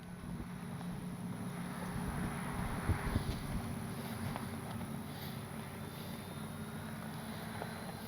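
Wind at an RC flying field during a Bixler maiden flight, a steady low buffeting rush against the microphone for about eight seconds with a faint high whine above it.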